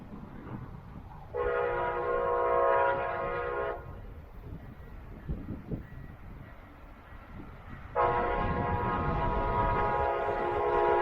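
A Brightline higher speed test train, running at up to 110 mph, passes on the line and sounds two long, loud blasts of its multi-tone horn, separated by several seconds of rumbling rail noise.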